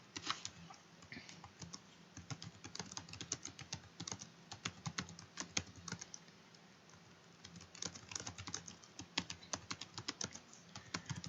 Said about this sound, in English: Then I'm typing the question.